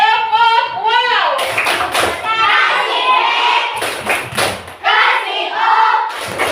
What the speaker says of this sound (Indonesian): Kasih tepuk tangan untuk Alif.